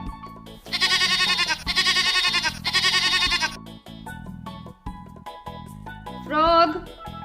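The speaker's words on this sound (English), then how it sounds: "goat" Goat bleating in a string of loud, wavering cries, three long calls in quick succession followed by shorter quieter bleats and a final shaky call, over a faint backing tune.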